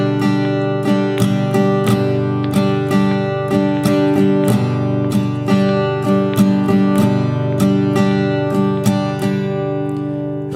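Rhythm guitar strumming the Calypso pattern, down-down-up-down-up, in a steady repeating beat of bright chord strums, loud and close with no talking.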